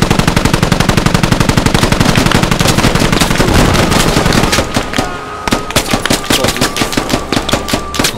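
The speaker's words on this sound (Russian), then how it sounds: "Пулемет." A machine gun fires in the video game Squad, with rapid, loud, continuous bursts of automatic fire at close range. The rhythm breaks up later into slightly spaced shots over battle noise.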